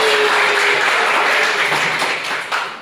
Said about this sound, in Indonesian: Aplaus buat Magelang.